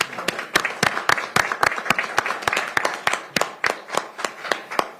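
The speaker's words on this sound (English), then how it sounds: "Let's give them a round of applause" Applause at a Pierce County, Washington council meeting: a modest group clapping in a fairly steady, distinct rhythm of separate hand claps for about five seconds, moderately loud and close.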